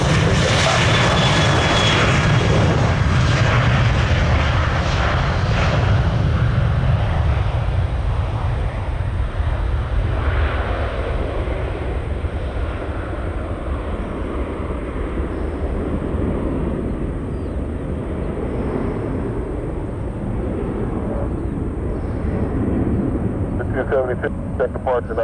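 Airliner engines roar steadily at Orlando International Airport on a dense foggy morning, a loud broadband rumble that slowly fades over the span, with a faint voice heard beneath it.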